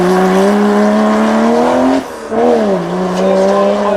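Turbocharged 700-horsepower three-seat supercar at the Beaulieu Supercar Weekend, its engine droning loud and close with rising revs, a brief lift-off dip and turbo whoosh, then pulling again.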